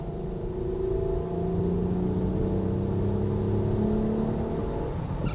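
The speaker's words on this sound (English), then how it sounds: "It's only when you're like really on the gas, like." A Toyota Camry Gracia XV20 wagon's engine revving hard under full throttle, a steady droning whine climbing in pitch through the gears, heard from inside the car.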